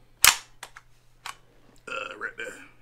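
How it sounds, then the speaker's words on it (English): Charging handle of an unloaded Kriss Vector CRB rifle pulled back, a sharp metallic snap followed by a few lighter clicks and a brief rattle, close and loud, with a little speech-like noise near the end. "Charging handle, pull back."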